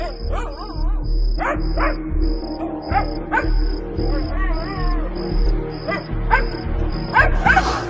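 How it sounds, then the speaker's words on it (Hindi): A small dog in a horror story setting barks in repeated sharp yips and whimpering bursts, close and fairly loud, over a steady chirping of crickets with a regular pulsing tone throughout. "इतना तो समझ आ ही रहा था कि ये पॉमी ही भौंक रहा था"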